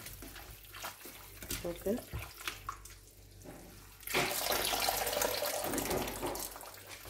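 Running tap water pours steadily over oha leaves being washed in a sink, a loud gushing stream after a short stretch of quieter handling and a brief spoken word.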